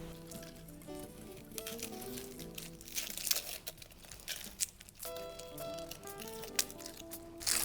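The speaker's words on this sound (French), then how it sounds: "on va éplucher l'échalote et l'ail" Dry garlic and shallot skins are peeled by hand at close range, giving soft, irregular crinkles and papery tears in uneven bursts, with faint background music.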